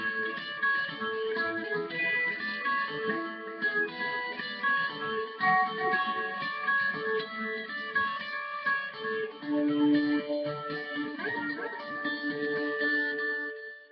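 Electric lead guitar line from a worship song, high melodic notes ringing out with delay over a steady full backing for the whole stretch, no talking.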